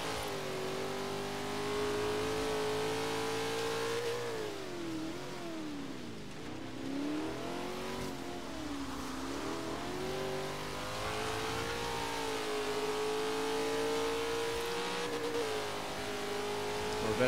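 Dodge and Chevy race car engines in Forza Horizon 3, including a Corvette, rev and drone steadily throughout, the pitch dipping and climbing with gear changes and throttle. The engines stay loud and close, with no speech over them.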